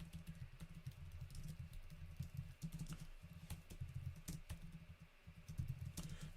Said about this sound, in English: You can type out an email that says, I've moved